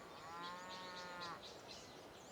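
Cattle in Civilization V low in a game mix, with a single drawn-out moo-like call near the start and a soft, steady ambient bed running underneath throughout.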